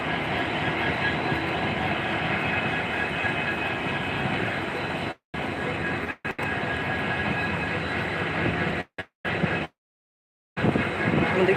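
A loaded goods train at Gopinathpur railway station rumbles steadily and loudly, a continuous rolling roar of wagons with brief cutouts near the end.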